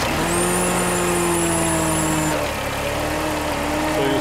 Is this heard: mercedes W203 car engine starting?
yes